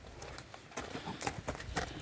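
A mare's hooves clip-clopping at a steady walking pace in a village, fairly close, each hoof strike a sharp knock over a steady background.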